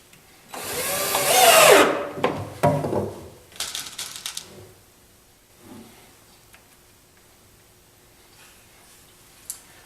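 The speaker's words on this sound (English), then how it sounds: "Putting 4 screws in, each one." A power driver whines loudly as screws go into a new oak drawer's inner slide inside an old workbench cabinet, followed by several shorter driving bursts and small clicks that fade into quiet handling.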